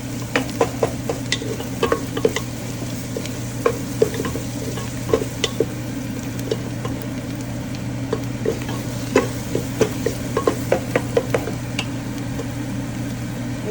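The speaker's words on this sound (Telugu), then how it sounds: "దీన్ని కూడా బాగా వేయించుకోవాలి" Garlic paste and curry ingredients for a village-style mutton curry fry in a hot pan, a steady loud sizzle with repeated scraping clicks of a spoon stirring throughout, close by and with no talking.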